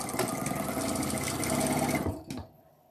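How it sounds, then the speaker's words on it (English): Close and loud, a sewing machine with automatic back stitching and a thread cutter runs in a fast steady whir for about two seconds. The sound ends with a sharp mechanical clack as the thread is cut, then near silence. "That automatic back stitching is another feature on this machine. It's kind of noisy when it cuts"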